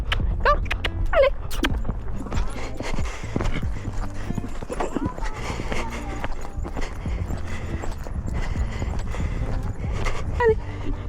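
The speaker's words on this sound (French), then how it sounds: "Et là, je la fais au galop." Horse galloping over an obstacle course, rapid hoofbeats and clip-clop rhythm throughout, with a brief whinny and a rider's shouts of encouragement over the steady hooves.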